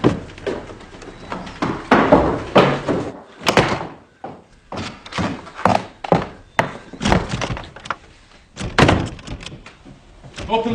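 Someone bangs and forces a wooden door in a period war drama: a series of heavy thuds and slams at irregular intervals, loud and close, with raised voices in between the blows.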